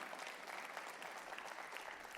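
A church congregation claps together during a sermon, a dense, even patter of many hands heard from a distance, fairly faint and without voices.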